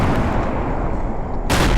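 A howitzer on a tank ship in the Garry's Mod ACF weapons mod fires with a loud, close, sustained roar of rumbling blast noise that flares again at the end, with no voices.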